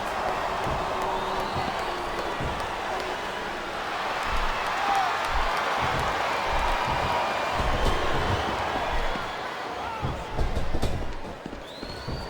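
Wrestling arena crowd at a Hell in a Cell match, a broad steady roar of voices with scattered shouts and swells of cheering, heavy thuds from the ring punctuating the noise throughout.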